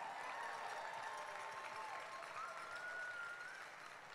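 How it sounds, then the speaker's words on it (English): An audience at the Pelotonia opening ceremony applauds its funding partners, a soft, distant, continuous clapping that tapers slightly at the end. "Let's give our funding partners a huge round of applause."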